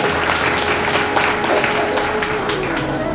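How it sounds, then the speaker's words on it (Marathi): Audience at a women's Haldi-Kunku gathering clapping, a dense, loud and steady round of applause from many hands that fills the whole moment. "एकदा जोरदार टाळ्या आपण आपल्यासाठी वाजवूया."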